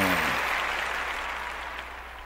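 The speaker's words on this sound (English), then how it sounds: "I'm going to have to give you some claps on that." Applause in a podcast studio fades out over a couple of seconds, a dense patter of clapping with a brief low voice at the start.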